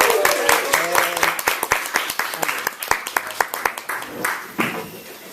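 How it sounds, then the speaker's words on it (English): Audience applause for a poet at a spoken-word event in Leeds, sharp individual claps standing out clearly against the room and slowly thinning out, with some voices heard among them. "please give a big round of applause to our first poet of the night, Janine Booth."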